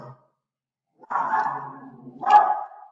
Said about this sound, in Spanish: Ya saben quién está ahí ladrando de fondo